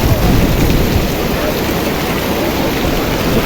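Heavy rain pours down over open countryside in a loud, steady, unbroken hiss that fills the whole stretch, with a faint low rumble underneath.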